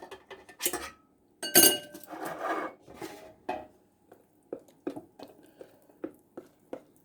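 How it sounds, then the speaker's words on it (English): Thick homemade banana cake batter scraped and tipped into a metal baking pan, with irregular scraping and light clinking of a utensil against the pan, close and fairly quiet, in bursts with short pauses. "So I'm gonna tip it in here in the baking pan."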